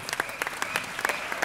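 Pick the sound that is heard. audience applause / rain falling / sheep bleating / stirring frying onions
audience applause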